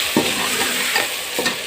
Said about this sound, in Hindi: और ये डालने के बाद थोड़ा सा चम्मच चलाएं